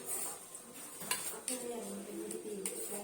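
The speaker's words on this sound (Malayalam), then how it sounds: "ഇതുപോലെ നമുക്ക് ചെറുതും എല്ലാം ഇതുപോലെ അരിഞ്ഞെടുക്കാം." A metal utensil chopping steamed idli into small pieces in a pan, quiet scraping and tapping with a few sharp clinks against the pan, close and soft.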